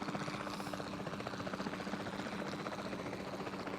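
Helicopter rotor and engine thrumming steadily, a dense pulsing roar that stays loud and even throughout with no talk.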